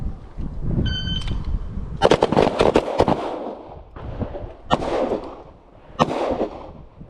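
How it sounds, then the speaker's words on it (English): Loud pistol shots at an outdoor shooting range, several sharp cracks spaced a second or more apart with rumbling echoes and wind noise between them. "assess where that first and second shot went"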